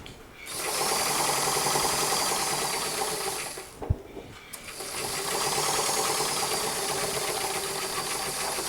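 Domestic sewing machine back stitching a seam on a dress bodice: a steady, fast mechanical whirring run, a brief pause with a knock, then stitching resumes close up and alone.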